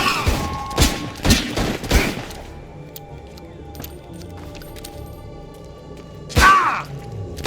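Gunfire in Chernobylite 2: Exclusion Zone comes as a few loud, sharp shots in quick succession early on, then a quiet stretch before another heavy blast near the end.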